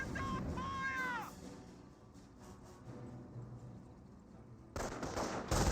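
Machine gun fire and battle noise from the Company of Heroes real-time strategy game, a steady rattling bed of gunfire under game effects, with a louder burst near the end.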